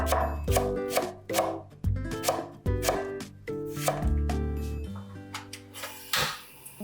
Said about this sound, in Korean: 파는 얇게 어슷 썰어주세요.